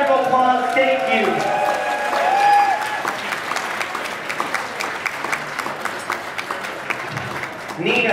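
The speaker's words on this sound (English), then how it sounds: "Folks, please give yourselves a huge round of applause" Audience applause from a large crowd at an event, dense sustained clapping at fairly close range, with a voice talking over the start and a few voices near the end.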